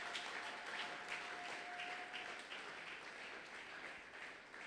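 Church congregation at a Sunday worship service applauds to acclaim the Lord, a faint, steady wash of clapping with a brief held tone in the background.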